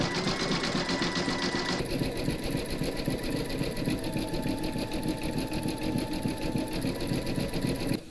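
An embroidery machine stitches a satin stitch border on a large skeleton appliqué, its needle hammering in a fast, even mechanical rhythm that runs close and loud throughout, with a brief change in pitch early on.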